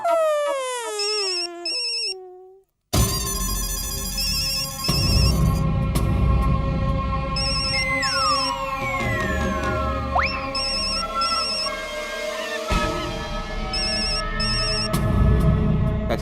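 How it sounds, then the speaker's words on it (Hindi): A phone ringtone in a video game plays as a repeating electronic melody, with a falling musical jingle at the start, bright tonal beeps and sweeping tones over background game noise. "चाचा जी आपका फोन बज रहा है"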